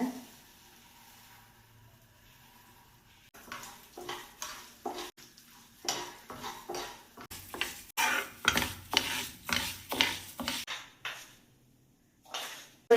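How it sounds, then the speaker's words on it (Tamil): Moong dal is dry-roasted in a pan over a low flame and stirred repeatedly, giving rhythmic rattling scrapes in bursts after a quiet start, with brief pauses between strokes. "இது வந்து பாசிப்பருப்பே நல்லா சிவக்க அழகாக வறுத்துட்டேன்"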